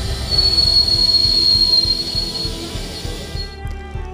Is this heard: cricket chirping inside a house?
no